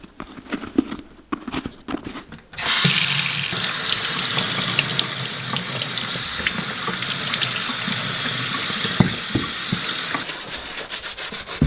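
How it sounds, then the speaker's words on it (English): Logger boots being washed in a sink under a running tap: a steady, loud rush of water starts abruptly after a few seconds of quiet handling knocks, runs continuously, then cuts off near the end. "let's get these into the sink, wash these up a bit"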